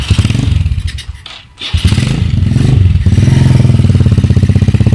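A motorcycle engine runs loud and close throughout, with a steady low throb, a brief dip and sputter as if nearly cut, then a recovered rhythmic idle, heard during a wireless anti-theft kill switch test.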